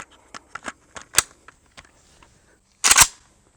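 AMD 65 AK-47 variant rifle firing Tula 7.62x39 ammunition, with a series of sharp clicks and small cracks followed by one loud, close gunshot near the end.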